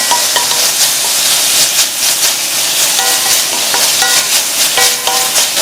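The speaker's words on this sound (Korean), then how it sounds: "이렇게 해서 불을 켜서 살짝 볶아줄 겁니다" Beef and garlic stir-fry in a pot for Korean tteokguk, an intense close sizzle with scraping and clattering of stirring utensils against the pot, continuous throughout without talk.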